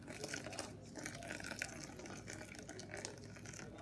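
About 8 ounces of water pour into a Toddy coffee maker with a steady, faint gushing stream that runs unbroken from start to finish.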